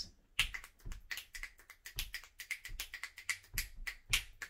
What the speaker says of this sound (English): Just snap your fingers.